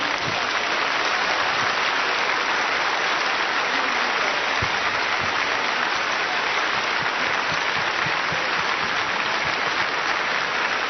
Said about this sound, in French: que l'on puisse observer 1 minute d'applaudissement